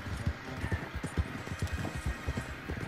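Horse hooves in the Red Dead Online video game, a steady clip-clop of roughly a dozen hoofbeats in an even trotting rhythm, close and moderately loud over faint background ambience.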